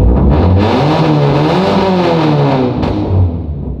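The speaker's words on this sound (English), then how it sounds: "Let me rev it for y'all one more time." A Jeep Grand Cherokee Trackhawk engine revs loudly up close, its tone climbing and falling as the throttle is blipped, then settling into a rough idle.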